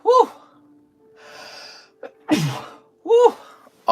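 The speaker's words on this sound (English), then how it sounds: "I got to sneeze, man." One person gasps and breathes in sharply several times, then lets out a single loud, close sneeze, followed by more vocal gasps.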